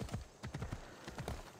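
Horse hooves clip-clop in Assassin's Creed Odyssey, a quick run of soft thudding steps at close range, with a brief whinny-like sound mixed among the hoofbeats.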